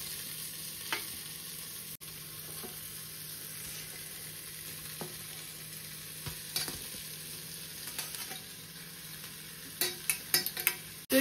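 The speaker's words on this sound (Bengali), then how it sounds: "তো এটা কিছুক্ষণ এরম ভাবে নেড়ে নিতে হবে, যাতে এর কাঁচা গন্ধগুলো চলে যায়।" Carrots, capsicum and onion stirred together in a pot for homemade chicken soup, giving a steady soft sizzle with occasional scraping clicks of the spoon, growing busier near the end.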